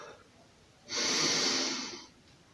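One long, close, deep inhale lasts about a second during a morning breathing exercise with arms lifting, rising out of near quiet and then easing off.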